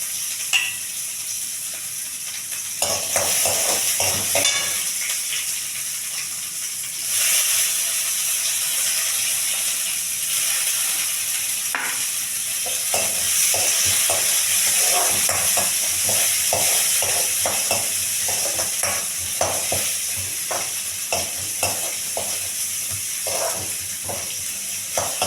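Mustard seeds, green chillies and garlic cloves frying in hot oil make a continuous hiss, broken by dense, irregular crackles and pops that thicken in the second half; no voices.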